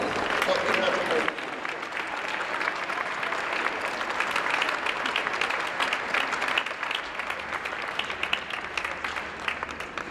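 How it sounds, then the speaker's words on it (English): Audience applause at a scholarship gala and fashion show, sustained steady clapping from a large crowd, with a voice over a loudspeaker briefly audible at the start. "One more round of applause, please, for our Blackburn Scholar and notable honorees."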